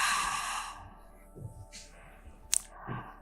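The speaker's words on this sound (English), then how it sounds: "Take deep breaths." A person takes slow, deep breaths while holding a butterfly stretch during a pelvic floor breathwork routine, with soft sighing exhales and inhales in a quiet room.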